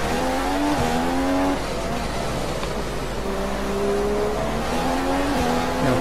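Simulated Formula 1 car engine whining and shifting pitch in F1 2015 at Melbourne on worn tyres, with tire squeal as the car struggles to turn; steady, loud and continuous throughout.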